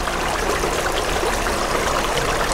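Small stream trickling just behind a garden pond, a steady close-up rush and babble of running water filling the whole stretch, with no voices.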